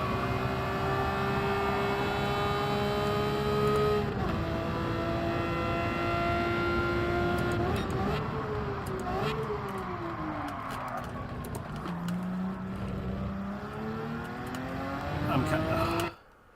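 A race car engine in Gran Turismo 7 drones steadily as it rises and falls with throttle and gear changes through a lap, heard alone and fairly quiet at a constant level.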